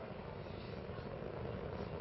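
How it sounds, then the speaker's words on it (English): Space Shuttle Atlantis engines roar during launch while throttling down near maximum dynamic pressure, a steady, dense broadband rumble that holds evenly throughout, muffled and distant-sounding, with no voices. "engine's throttling down as Atlantis prepares to maneuver through the area of maximum dynamic pressure on the vehicle."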